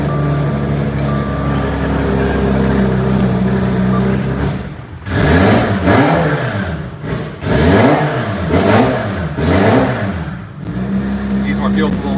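An ethanol-fueled car engine idles, then revs up hard several times in loud surging waves before settling back to a steady idle, close by, with voices around it.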